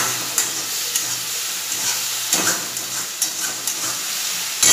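Onions sizzle and fry in a hot pan in a home kitchen, a steady bright hiss with scraping stirs breaking through every second or so, close and fairly quiet, with no voices.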